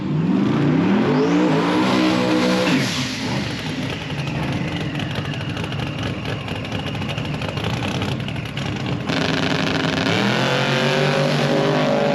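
Two drag cars race side by side down the strip, their loud engines revving and roaring at full throttle, then fading and passing into a broad rumble before another engine note surges near the end.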